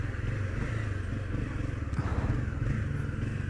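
A Honda CB300 motorcycle idles steadily close by as it is parked, a low, even engine throb with faint clatter, no clear revving.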